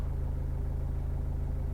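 Farm machinery running while a seed drill is loaded during winter wheat sowing, a steady, close, low engine drone with no talk over it.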